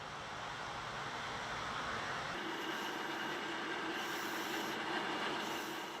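A train rolls along a railway through Sorachi District, a remote mountain valley, as a steady, moderately distant rumble with a faint high squeal from the wheels and no voices.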